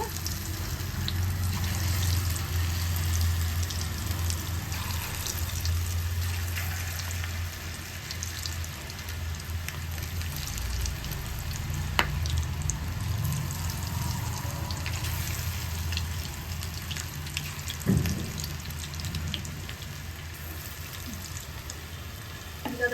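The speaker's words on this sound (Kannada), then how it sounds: "ಚೆನ್ನಾಗಿ ಫ್ರೈ ಆಗ್ತಿದೆ" Okra (bhindi) fries in hot oil in a pan, a steady close sizzle and crackle with occasional stirring clinks and brief sharper pops.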